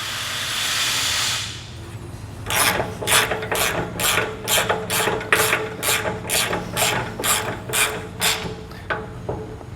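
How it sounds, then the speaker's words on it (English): Opening with a short hiss, a hand ratchet then clicks in about a dozen rhythmic bursts as it tightens a nut on the hanger bolt of a trailer leaf-spring suspension. The clicks are close and loud. "We can go ahead and put on our nut and get this tightened down."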